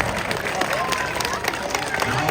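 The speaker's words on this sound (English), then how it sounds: "Let's give him a big round of applause." An audience applauding a sea lion show at a zoo, a steady dense wash of clapping with crowd murmur that holds loud and even throughout.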